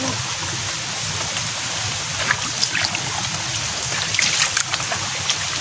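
Heavy rain falling steadily outdoors at night during crab hunting, a dense, loud hiss of drops with scattered louder spatters, with no speech.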